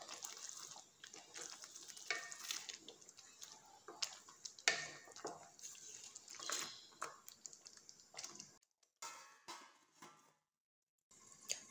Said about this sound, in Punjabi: ਢੱਕਣ ਨੂੰ ਥੋੜ੍ਹਾ ਜਿਹਾ ਆਪਾਂ ਛੱਕ ਕੇ ਪਾਲਕ ਨੂੰ ਹਿਲਾ ਲੈਣਾ।